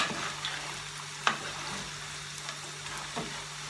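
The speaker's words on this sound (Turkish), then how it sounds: "Şöyle patatesini güzelce kızartıp" Potatoes sizzle and crackle in a pan with a soft continuous hiss, punctuated by a few faint pops and a light clink.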